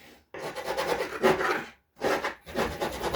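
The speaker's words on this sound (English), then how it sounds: "And I am scraping." A card scrapes old paint off a discarded panel in loud, rough rasping strokes up close, with short pauses between the bursts.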